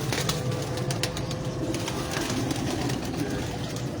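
Kel pigeons coo softly on a rooftop amid steady outdoor background noise, with faint wing flutters and distant ambient sound.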